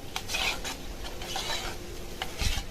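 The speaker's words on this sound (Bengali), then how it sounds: "এই কর্নফ্লাওয়ারটা এই আমের রসের মধ্যে দিয়ে মিশিয়ে নেব। ভালো করে মিশিয়ে নেব, যাতে দলা না পড়ে থাকে।" Cornflour stirred into mango juice to mix smoothly, making a steady scraping, swishing sound of a spoon working around a bowl with periodic rhythmic strokes, continuous and fairly soft.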